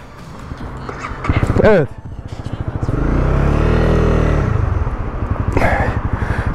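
A Honda CB250R motorcycle engine starts and revs up nearby, a rising rev then a sustained loud throttle run and a steady idle thump, with people talking over it.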